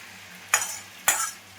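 Fried prawns tipped into a sizzling pan of curry with potato and stirred. Three sharp scraping stirs land at roughly even intervals over a steady, low sizzle.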